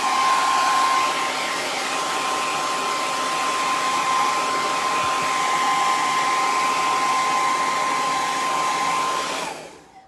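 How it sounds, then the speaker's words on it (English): Hair dryer blowing hot air over acrylic paint on small ceramic pumpkins, a loud, steady whooshing hum with a constant whine that runs unbroken for about nine seconds before switching off and fading. "I hate to use the blow dryer and the heat when I'm on live."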